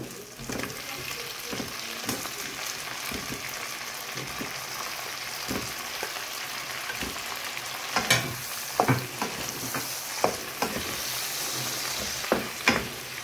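Shrimp frying in chili garlic butter hiss and sizzle steadily in a hot pan, while a utensil stirs and scrapes with sharper clicks growing busier toward the end, close and unbroken with no talk.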